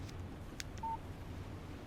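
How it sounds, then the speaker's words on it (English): A brief electronic text-message alert tone from a mobile phone in the video game Alan Wake, a single short beep sounding once over a low, steady ambient game background with no talk. "Text message from Barry."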